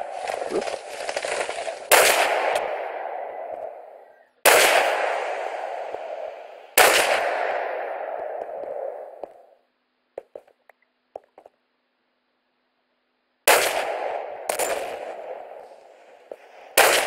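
Video game gunfire: six loud, sharp shots spaced irregularly, each with a long ringing tail that fades out, separated by near silence and a few faint clicks.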